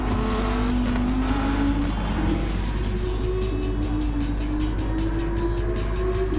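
Race car engines in Gran Turismo 7 at Interlagos drone loudly and continuously as the pack runs close together, with the pitch rising and falling through the gears and cars jostling wheel to wheel.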